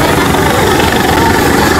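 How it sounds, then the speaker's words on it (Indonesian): Engine of the Indonesian presidential aircraft RI1, marked with a Garuda emblem and number 1 logo, at an arrival event: a loud, steady broadband jet roar with a low rumble, continuous and close throughout. "Ini pesawat RI1 mungkin ya."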